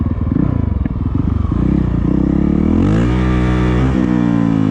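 A Honda CRF450L dual-sport motorcycle with a tuner fitted pulls hard up through first into third gear, its loud, close engine note climbing in pitch with each gear and dropping briefly at the shifts.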